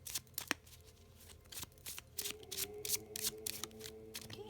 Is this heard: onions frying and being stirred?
no